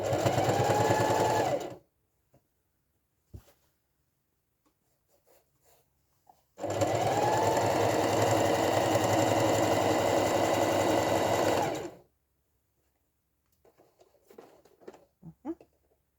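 A sewing machine stitches a fabric market bag in two long, steady runs separated by a quiet pause, with light handling clicks; the motor hums close and even, with no talking.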